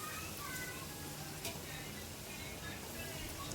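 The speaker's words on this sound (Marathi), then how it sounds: "तडका लागल्यावरती आता भाजी घालूया जी आपण नीट करून घेतली आहे, फणसाचे गरे" Prepared jackfruit pieces drop into a sizzling tempering for a Kokani-style village vegetable dish, producing a soft, steady frying hiss with a small clatter, fairly quiet and close.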